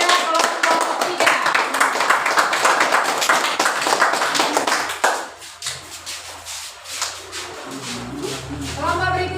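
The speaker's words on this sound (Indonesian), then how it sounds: "beri aplaus kepada kelompok tiga" Group three gets applause in a classroom teaching session, with many hands clapping in dense, steady rhythm for several seconds before the clapping thins out and a voice begins speaking.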